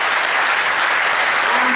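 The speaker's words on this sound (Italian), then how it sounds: "In una serata come questa poi merita anche un applauso a voi tutti." Dense, steady applause fills a crowded congress hall in Canizzano, Treviso, a loud continuous wash of many hands clapping together without a break.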